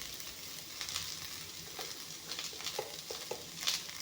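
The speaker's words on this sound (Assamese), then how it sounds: "এয়া চব বিনখিনি জলকীয়াৰে ধুনীয়াকৈ ভাজি ল'লোঁ।" Boiled green beans frying with chilli in a pan, a soft continuous sizzle with scattered light crackles and stirring scrapes, close and fairly quiet, no voices.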